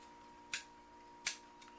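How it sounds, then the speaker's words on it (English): A power switch snaps into its mounting opening on the back of the core component of a DIY FDM-printed SLA resin printer, giving two sharp, quiet plastic clicks about a second apart over a faint steady hum. "Just push it in the corresponding opening until you hear a clicking noise."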